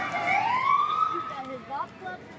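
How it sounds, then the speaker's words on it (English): A siren wails at the end of the Kalamazoo Doodah Parade in a rising, sweeping tone, then trails off, with voices chattering in the background. "those sirens mean it's the very end of the parade"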